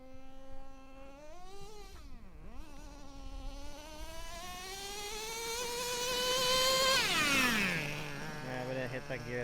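A nitro RC car engine screams at the track, its high buzzing pitch rising and falling sharply as the throttle opens and closes, loud and close, with a voice talking briefly.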